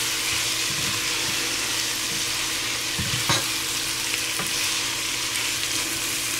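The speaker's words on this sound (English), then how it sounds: "now we can stir it, and we should stir it actually" Aromatics for Bermuda-style fish chowder stirred in a hot pot. A constant sizzle continues alongside a few low knocks and scrapes of the spoon, near and fairly loud.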